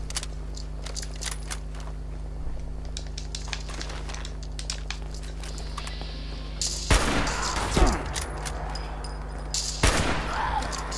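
Shotgun fire in the video game Fallout 76, heard as sharp close blasts over a constant low game drone. Clicks and rattles at the start give way to a few heavy shots later, loud against the background.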